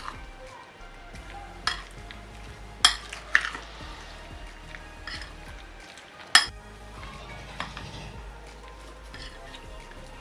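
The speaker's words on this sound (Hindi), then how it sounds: "इसको अच्छी तरह से मिक्स कर लेंगे।" Spoon stirring fruit cream with mango and pomegranate pieces in a bowl, soft wet scraping with a few sharp clinks of utensil against the dish, close and fairly quiet, no talk.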